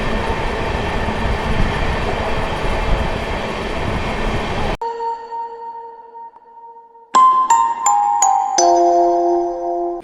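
An Amrit Bharat Express train runs at speed past Khandwa Junction with a loud rolling rumble and rattle, then cuts to quieter station chime tones.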